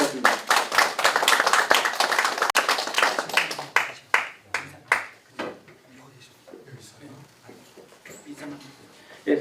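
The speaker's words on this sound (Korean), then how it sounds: "큰 박수 부탁드립니다." A small seminar audience clapping in a hall, brisk dense claps that thin into scattered individual claps and taper off, with a voice speaking briefly afterward.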